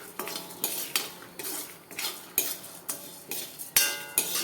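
Chillies dry-roasting in a pan are stirred with a metal spoon, producing a rapid, regular series of close scraping clinks against the pan with a faint rustle between strokes.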